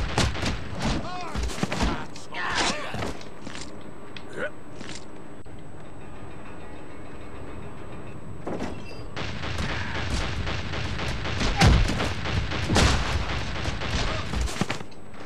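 Bursts of gunfire and booms sound in the video game Fallout: Brotherhood of Steel, with rapid machine gun volleys growing denser toward the end and voices talking over parts of it.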